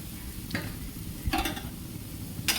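Chopped onion with garlic and ginger paste fries in a pan, giving a low, steady sizzle broken by a few short scraping stirs.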